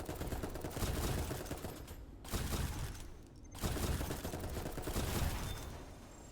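Gunfire and shotgun blasts in the video game Dolls Nest, heavy bursts of rapid shooting broken by two brief pauses, loud and close with no voices.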